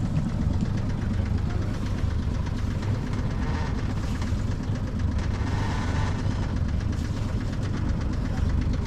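A boat engine running with a knocking fault, a steady loud low-pitched throb with a repetitive clattering pulse, close and continuous, with faint voices in the background.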